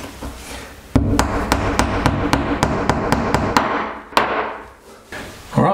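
Sharp hammer blows ring out one after another at a steady pace, about a dozen close strikes hammering plastic wall plugs into a tiled shower wall, with a couple of heavier knocks near the end.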